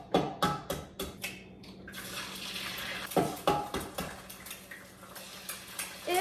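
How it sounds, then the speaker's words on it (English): Eggs being cracked into a bowl during a breakfast routine, a run of sharp clinking taps on the rim followed by scattered knocks and soft kitchen clatter, close and fairly quiet. "Intermission to crack the eggs."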